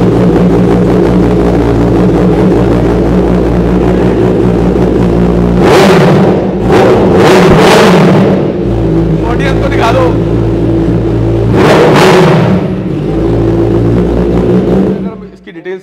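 A 2022 Kawasaki Ninja ZX-10R superbike with an SC Project exhaust and about 8,000 km on it idles loudly between sharp throttle blips, with several aggressive rev bursts and talk in the background.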